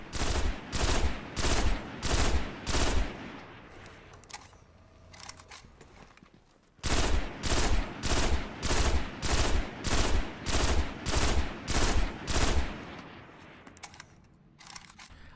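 The Messenger pulse rifle fires in Destiny in two long strings of evenly spaced bursts, each a loud punchy crack with a short gap, split by a quiet pause with faint game sounds.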